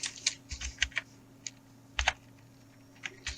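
A computer keyboard is typed on in short bursts, with crisp, close key clicks and pauses between groups, over a faint steady hum.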